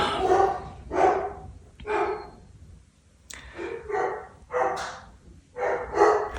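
Household dogs barking in separate sharp bursts, roughly one every second, some with a yippy edge, close by and clear with no voices.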